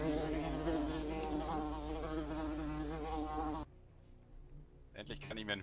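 Insects buzz in a video game, a loud, dense, continuous drone that suddenly drops away and gives way to quieter game sounds, with a voice briefly talking near the end.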